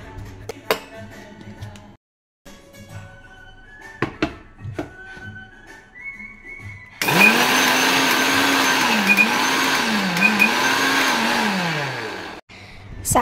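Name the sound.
mixer grinder grinding cumin, coriander and garlic paste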